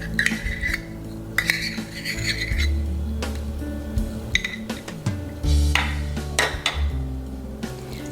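Egg and mayonnaise being stirred together in a bowl for crab cakes, with repeated close clinks and scrapes of a utensil against the bowl and no talking.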